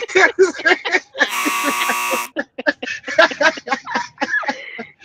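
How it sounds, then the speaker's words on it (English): A loud, flat electronic buzzer blares for about a second, cutting across lively, overlapping talk from several nearby voices that carries on before and after it. "That deserves a buzzer."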